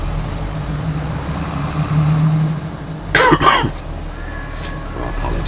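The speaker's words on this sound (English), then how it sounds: "you got that tickly cough all the time" A short burst of dry, tickly coughing close to the microphone, two or three quick hacks over a low steady hum.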